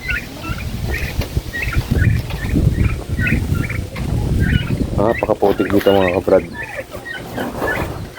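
Chickens on a small muddy farm give repeated short chirping calls in the background while someone talks over them nearby.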